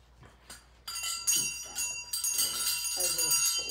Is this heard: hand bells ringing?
yes